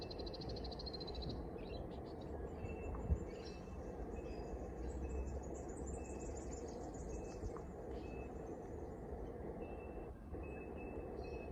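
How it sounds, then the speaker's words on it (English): Frog croaking in a wetland at a former brickworks park in the early morning, a steady chorus of calls heard at a distance alongside faint birdsong. "Hear the frog?"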